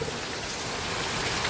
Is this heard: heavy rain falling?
yes